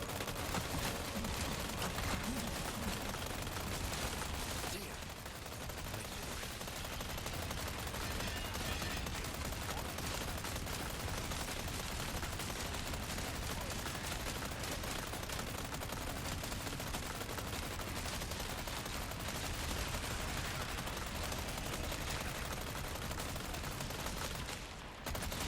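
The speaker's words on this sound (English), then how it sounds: "you could just literally just start shooting away at people as they're coming down" Constant dense gunfire in a shooter video game, a continuous rattle of rapid shots with no pauses. It stays loud and close throughout, broken only by a slight dip near the start.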